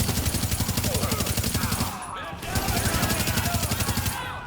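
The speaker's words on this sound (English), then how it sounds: "Fire on target." Rapid automatic gunfire rattles in Tom Clancy's The Division, loud close bursts that pause briefly and then resume, with voices heard through the shooting.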